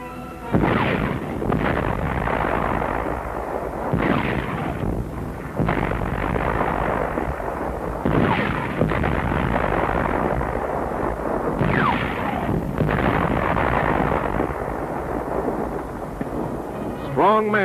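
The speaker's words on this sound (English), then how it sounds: "On this great range, our tanks are spitting steel." Tank guns fire on a range, heard on an archival film soundtrack: heavy booms recur every few seconds over a dense, constant rumble, with narration running throughout.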